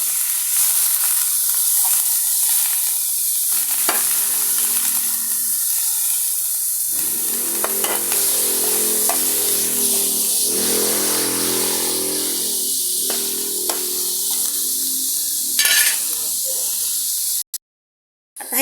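Meat frying in hot oil makes a steady, loud, close hiss and crackle that runs throughout, with someone talking over it and a brief break near the end.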